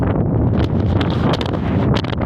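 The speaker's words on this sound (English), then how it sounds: "It's got really windy too." Strong, steady wind on Mount St. Helens buffeting the microphone with a constant roar and gusty rustle, loud and close, no voices.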